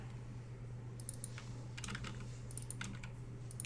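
Light typing on a computer keyboard, a few scattered bursts of soft key clicks over a steady low hum, fairly quiet and without talk.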